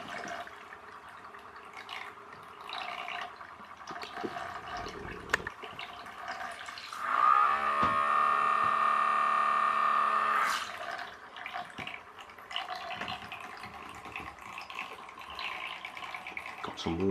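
A toy boat propeller, driven by a vibrating toothbrush motor, churns bath water in a steady buzzing, splashing burst of several seconds. It stands out close and loud amid quieter handling noise.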